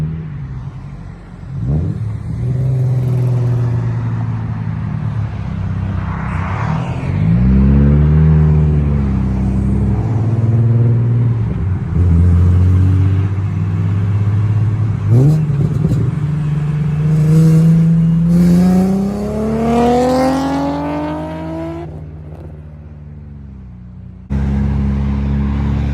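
Infiniti G37 fitted with a new ISR exhaust revs repeatedly, each rise climbing to a deep, raspy roar and then falling back to a rumbling idle, close and loud.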